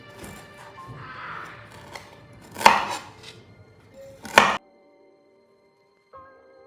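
A knife chops washed ginger for a home remedy, giving a few separate sharp chopping impacts spaced out over a quiet kitchen background with faint handling sounds, ending with a short clink.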